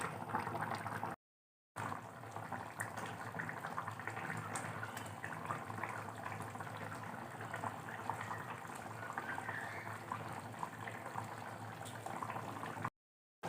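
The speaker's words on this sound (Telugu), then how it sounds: "ఇలా పీసెస్ వేసుకోవాలి వేసుకుని మూత పెట్టుకుని బాయిల్ చేసుకోవాలి" Fish curry (chepala pulusu) simmering in a covered pot on a stove, a steady close bubbling and soft liquid churn running throughout, with two short silent gaps.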